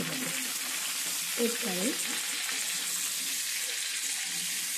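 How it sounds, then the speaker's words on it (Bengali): Cucumber frying in hot oil, a dense and even crackling sizzle that holds steady from start to finish, with someone speaking briefly over it. "শসাটা কিছুক্ষণ ভেজে নেব।"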